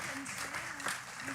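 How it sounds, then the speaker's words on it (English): Applause for a group of people at a talk, a steady wash of clapping held at an even level under a speaking voice. "let's just get another round of applause for these amazing people"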